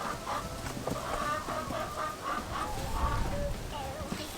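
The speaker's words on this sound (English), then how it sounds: "Herding the chickens in." A flock of farm chickens is herded in, clucking and making short calls throughout at close range, with faint voices in the background.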